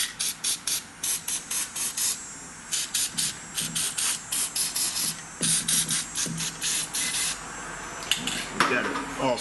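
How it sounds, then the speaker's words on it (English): Fluid Film lubricant sprays behind the center hinge roller of a Toyota Sienna power sliding door in a long run of short, close hissing bursts, with faint talk near the end. "We've got it all sprayed behind the hinge"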